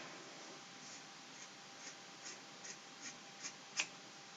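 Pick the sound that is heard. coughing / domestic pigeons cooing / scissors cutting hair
scissors cutting hair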